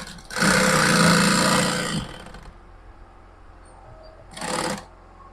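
A fast sewing machine stitches fabric for an Ankara tote bag in a loud whirring burst of about two seconds, then a quieter pause and a second short burst near the end.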